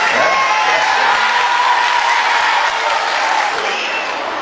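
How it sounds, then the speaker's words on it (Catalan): An audience applauds the mayor at a school festival in Vic, loud continuous clapping with a hint of cheering, holding steady for several seconds before easing off slightly. "Gràcies pels aplaudiments."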